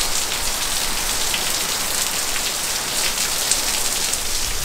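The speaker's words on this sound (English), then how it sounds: "hopefully it won't be this heavy a downpour" Heavy rain pours outdoors during a stormy, windy day on Florida public hunting land, a dense, steady hiss of drops hitting surfaces with no breaks, fairly close and constant.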